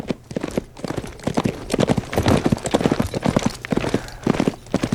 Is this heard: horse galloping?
yes